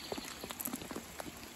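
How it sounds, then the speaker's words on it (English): Rain falls outdoors by a building on an evening, scattered soft drips and taps landing on a surface, faint and close, with quiet background hiss. "It's raining."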